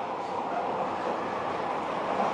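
A JR Shikoku 2000 series diesel train rolls along on its last run toward Kochi, with a steady rumbling roar from inside the carriage, continuous and even throughout.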